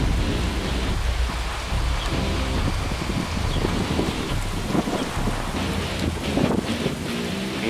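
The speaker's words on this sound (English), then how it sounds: "Couple more rumbles of thunder." A heavy rainstorm over the Prairies near Regina, with strong wind gusts: dense, steady rain hiss and wind roar fill the clip, with low rumbling beneath that may be distant thunder, loud and continuous, with no speech.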